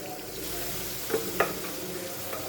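Soaked chana dal frying with spices in a pan, a steady hiss of sizzling oil with a couple of sharp stirring scrapes partway through.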